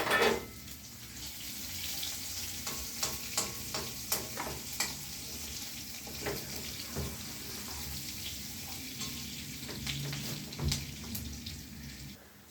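Chopped onions sizzle softly in oil in a pan while being stirred, a quiet steady frying crackle broken by scattered scrapes and knocks from the spatula.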